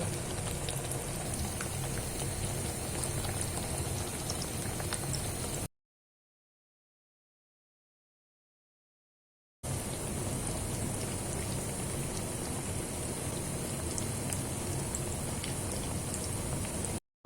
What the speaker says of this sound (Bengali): ক্রিস্পি বেগুনি আমাদের সন্ধ্যার নাস্তা লাল করা পর্যন্ত ভেজে নিব